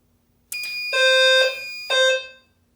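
A building fire alarm system sounds loud electronic horn tones: a sharp onset, a sustained blaring tone, then a second pulse that fades out, in a quiet room.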